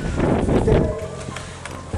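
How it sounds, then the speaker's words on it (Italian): Wind gusting outdoors at a hilltop village, buffeting the microphone with a low rumbling roar that is strongest at first and then eases. "Vi chiedo scusa per il vento, c'è un po' di vento"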